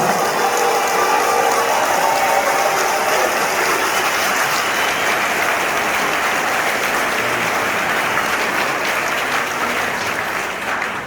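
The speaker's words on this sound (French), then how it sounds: "Donc applaudissez-vous ce soir." Dense, steady crowd applause fills a political meeting hall in Guadeloupe, many hands clapping together at a loud, sustained level that eases slightly near the end, with no talking heard.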